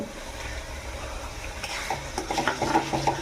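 A paste of ginger, garlic and onion sautés with fried onions in a pan for a home-made chicken dish, a soft sizzle that builds into clattering stirs toward the end, with no talking.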